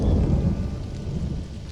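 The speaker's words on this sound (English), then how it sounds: "I hear a thunderstorm, but it says just rain" Thunderstorm in the survival game Stranded: Alien Dawn, a deep rolling rumble of thunder that peaks at once and then fades over a steady hiss of rain.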